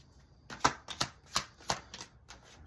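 Tarot cards being shuffled by hand, a run of six or seven crisp riffling bursts at an uneven rhythm, close and clear with no talking over them.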